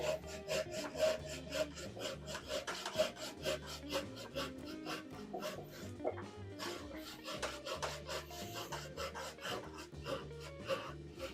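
Hand-cutting a piece of wood held in a clamp on a woodworking bench, with loud, close, rhythmic back-and-forth rasping strokes repeating steadily throughout.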